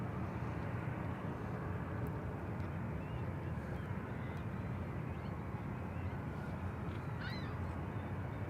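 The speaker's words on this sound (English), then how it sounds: "we're going to have the China Airlines cargo 777 take off here shortly" A China Airlines cargo Boeing 777 takes off at San Francisco International Airport, heard as a steady, broad jet roar that holds for the whole stretch, with faint bird calls scattered over it.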